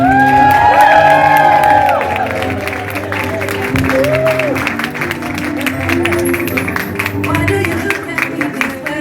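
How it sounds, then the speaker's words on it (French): A live audience applauds and cheers with whoops for Amanda Malela at a French-language event, a loud, dense crowd roar sustained over background music and voices. "applaudissements, mesdames et messieurs, s'il vous plaît, pour Amanda Malela"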